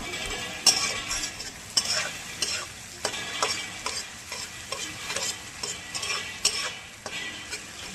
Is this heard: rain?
no